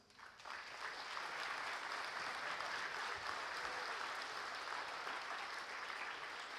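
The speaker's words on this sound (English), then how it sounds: "Let's give them a round of applause." Sustained applause from an audience honoring the coaches at a high school athletic awards banquet in Refugio, a dense steady wash of clapping that builds quickly and holds at full strength throughout.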